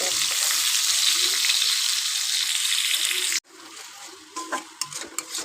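Pointed gourd and potato frying with spices in a wok, a steady loud broadband sizzle that cuts off abruptly, followed by quieter scattered crackles and stirring clinks.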